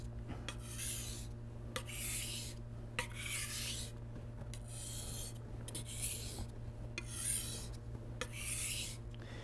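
A western kitchen knife drawn repeatedly across a 1000-grit medium whetstone, giving rhythmic rasping strokes about once a second, close and steady over a faint background hum.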